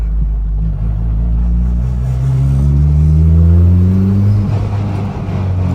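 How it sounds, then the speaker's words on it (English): Deep, throaty rumble from a K-swapped Honda engine with 661 hp, loud and close, with the pitch of the engine rising steadily and then dropping back. "Listen to how it literally rumbles."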